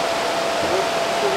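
Güzeldere waterfall near Düzce in Turkey: a brief, steady hiss of rushing, falling water filling the whole clip, close and even, with a faint tone running through it.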